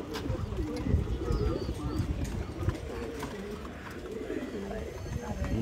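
A racer pigeon coos in soft repeated calls close by, over shuffling and handling noises, while someone talks nearby.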